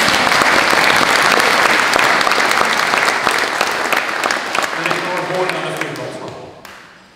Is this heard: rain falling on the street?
no